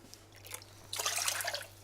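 Water poured from a cup into a cooking pan, faint drips at first, then a brief splashing pour that swells and trails off, with a low steady hum underneath.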